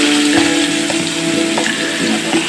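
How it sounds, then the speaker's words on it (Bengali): Marinated chicken pieces for chicken chaap sizzle loudly in hot oil, a steady close frying hiss with scattered pops and crackles throughout and no talking. "এখন মাংসটাকে গরম তেলে দিয়ে"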